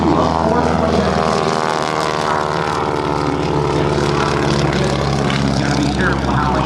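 Propeller engine of an aerobatic airplane flying a low-level display close to the ground at an air show, a loud, steady buzzing drone throughout with a commentator's voice talking over it.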